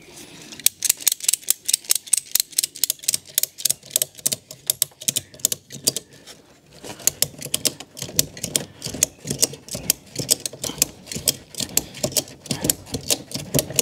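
Ratchet strap being cranked tight to hold a Vespa GTS 300 scooter on a trailer, a long run of quick, sharp, evenly spaced clicks close by, pausing briefly midway and then resuming.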